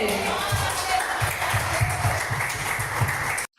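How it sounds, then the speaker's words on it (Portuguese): A church congregation applauds the Lord during a worship service, steady dense clapping that holds for a few seconds and then cuts off sharply, with some voices mixed in. "Você pode aplaudir ao Senhor, igreja?"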